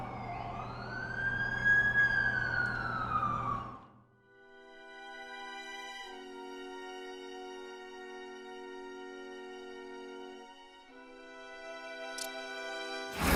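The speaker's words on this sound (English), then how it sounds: "That's the ambulance I called." An ambulance siren in the Amazing Spider-Man 2 video game: a rising and falling wail at first, then a steady sustained tonal siren holding for several seconds before shifting pitch, moderately loud with no talk over it.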